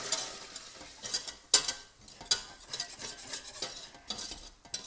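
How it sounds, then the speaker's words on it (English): Flour being stirred into melted butter in a pan to make a roux, a soft sizzle under irregular scraping strokes and a few sharp utensil clinks against the pan, close and fairly quiet, no talking. "So in goes the flour, give it a little stir."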